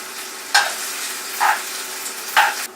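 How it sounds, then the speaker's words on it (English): Pasta aglio e olio is stirred in a pan over a gas flame: a steady close sizzle with three distinct scraping sweeps of a utensil against the pan, evenly spaced. "So now we're just stirring this around a little bit for the flavors to get to know each other"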